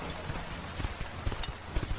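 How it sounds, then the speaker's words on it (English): A big black horse's hooves clop in an uneven series of dull thuds, moderately close, over a steady background rumble. "Hey, look. A horse. A big black horse."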